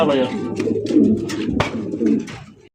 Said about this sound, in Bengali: এখানে রয়েছে একজোড়া বোম্বাইয়ের কালেকশন দেখতে পাচ্ছেন সাদা দবদবা একজোড়া বোম্বাই কবুতর